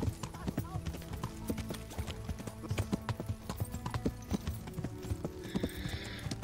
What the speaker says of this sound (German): Verrücktes Pferd, verrücktes.